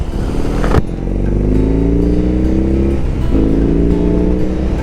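A BMW R18 motorcycle engine runs loud and close while riding, with a deep, steady drone that rises in pitch, drops at a gear change, then climbs again.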